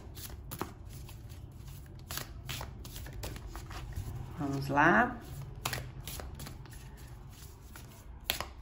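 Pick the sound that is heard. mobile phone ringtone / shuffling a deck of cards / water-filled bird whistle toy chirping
shuffling a deck of cards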